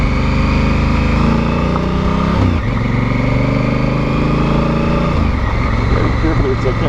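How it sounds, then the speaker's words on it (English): Honda Africa Twin adventure motorcycle on gravel, its engine droning loud and steady with a brief rev drop as the rear tire spins, continuous close engine noise throughout. "You hear the back tire actually spin there a little bit."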